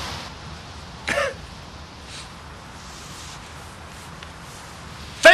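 A person clearing their throat with a brief, sharp burst, followed by quiet room tone and a second louder throat-clearing sound at the very end.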